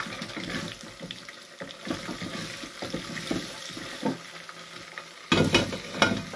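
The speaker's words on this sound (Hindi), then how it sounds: "ये सब्ज़ मिर्च और भूनेंगे।" Chilies and garam masala fry in a pan with a close, steady sizzle, broken up by the scrape and clatter of stirring and one louder burst of hissing near the end.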